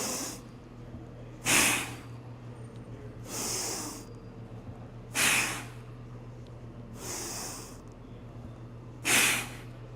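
Heavy breathing during kettlebell squats, with five loud, sharp exhales or snorts at a steady rhythm, about every two seconds, and quieter breaths between them.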